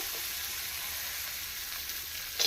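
Cashews and raisins fry in ghee with a steady, soft sizzle that holds constant, then a brief louder crackle near the end.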